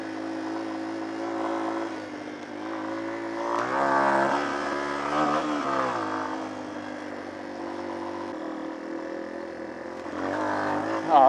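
Motorcycle engine of an unidentified bike ridden offroad while pulling small wheelies, a steady harmonic drone that swells with revving and throttle changes, loud and close throughout with no talk.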